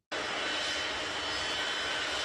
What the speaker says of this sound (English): Look at these planes too.